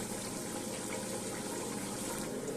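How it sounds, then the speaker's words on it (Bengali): A covered pot of flat green bean seeds at a rolling boil, a steady close bubbling and gurgling wash of water that continues evenly without pause. "দেখো টকবক করে এটা ফুটে গেছে"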